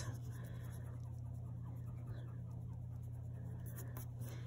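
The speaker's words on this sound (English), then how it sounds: "I need to erase these lines, and I need to get my eraser." Rubbing of an eraser across pencil lines on paper during a dot-pumpkin art project, a faint steady scratchy friction over a constant low hum, with no talking.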